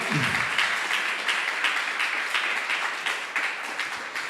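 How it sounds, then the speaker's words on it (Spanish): Sustained applause from a church congregation fills the room, dense and even throughout, with a faint voice underneath at the start. "Le puedo dar un fuerte aplauso y al Señor."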